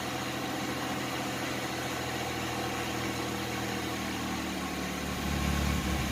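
A Lumina Eurosport 3.1 V6 with a suspected faulty fuel pressure regulator idles steadily, a continuous close engine drone with mechanical vibration that swells a little louder near the end.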